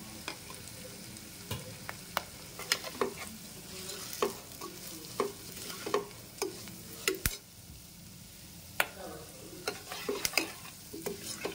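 Spices with turmeric and salt fry for pepper rasam, giving a soft steady sizzle. Frequent sharp clicks of a spoon stirring against the pan sound close and irregular throughout, with no talking.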